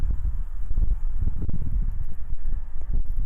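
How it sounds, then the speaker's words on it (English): Steady gusting wind buffets the microphone at an outdoor shooting range, a dense low rumble surging and easing continuously throughout with no other clear sounds. "Pretty much gusting at 10 to 12 miles an hour and sustained 5+ mile an hour winds"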